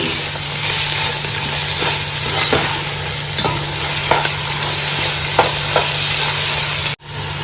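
Ginger garlic paste with mint and coriander sizzles in a pan on a low flame for mutton biryani, a steady close frying hiss broken by regular scraping strokes of a stirring spoon, then cutting off abruptly near the end.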